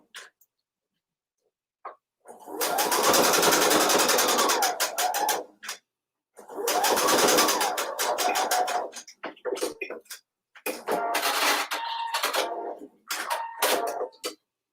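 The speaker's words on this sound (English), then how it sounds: "I'm going to stitch it closed close to the fold." A home sewing machine runs a straight stitch to close fabric near the fold, sounding as several sustained whirring bursts of a few seconds each, separated by short pauses and a few quiet clicks.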